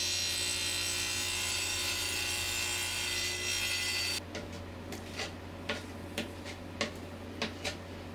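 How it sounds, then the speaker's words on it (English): A steel hacksaw rod blade with abrasive coating grinds through ceramic tile in a steady rasping drone, then stops, leaving scattered close clicks and taps. "There's actually a hacksaw blade you can buy for cutting tile"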